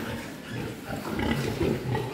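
Pigs grunting on a farm, including large pregnant gilts: a dense, continuous mix of low grunts and snorts from several animals, moderately close. No speech.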